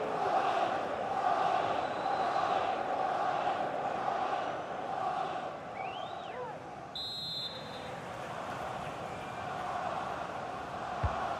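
A stadium crowd in a FIFA 23 Premier League match, Arsenal versus Wolves, roars steadily in the background at moderate level, with a brief whistle-like tone partway through.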